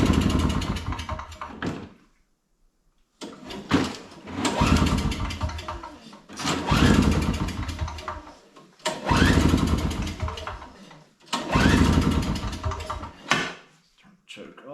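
An old Craftsman two-stroke snow blower is cranked over and over, with five loud, rough bursts of a couple of seconds each separated by short pauses, sputtering close by without settling into a steady run.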